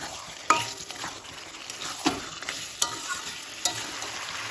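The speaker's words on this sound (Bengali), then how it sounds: "তেলের সাথে চিকেনটা এবার ভালোভাবে কষিয়ে নেব।" Marinated chicken pieces frying in hot oil in a pan, a steady sizzle broken by four or five scraping stirs of a spoon at a slow, even pace, close and moderately quiet.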